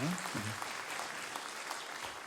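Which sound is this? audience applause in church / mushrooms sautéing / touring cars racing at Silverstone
audience applause in church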